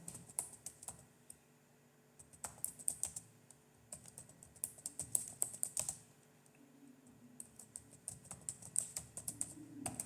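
Someone types on a computer keyboard in bursts of quick clicking keystrokes separated by short pauses, close and fairly quiet, with no talk over it.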